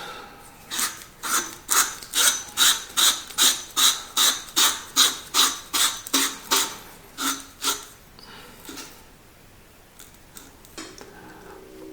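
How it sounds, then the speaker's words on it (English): A part being screwed back onto the air tube of a Webley Raider air rifle gives a steady series of about a dozen close, scratchy ratcheting rasps in even rhythm, then a few scattered faint clicks. "all we're going to do is we're simply going to screw this back in"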